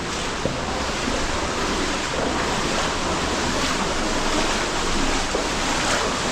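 A waterfall roars inside a cave in Bali, a loud, unbroken broadband rush of falling water that holds steady throughout, close and overwhelming, with no voices.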